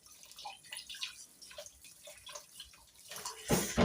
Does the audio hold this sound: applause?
no